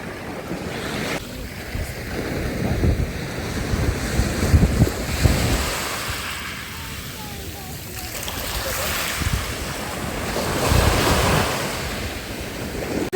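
Waves wash and break steadily on a beach in Odesa while wind buffets the microphone, with a faint voice occasionally audible underneath.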